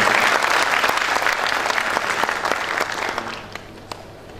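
An audience at an academic panel applauds steadily, a dense loud clapping that holds for several seconds before gradually thinning out.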